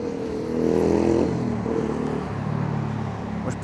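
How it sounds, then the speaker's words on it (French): A motorcycle engine drones close by on a street in Croydon, swelling briefly as it goes past and then settling into a lower, steady rumble. "J'ai juste envie d'entendre des motos."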